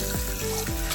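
Water splashes and runs steadily while a clay pot is rinsed clean by hand, a close, continuous wet washing sound with no talking.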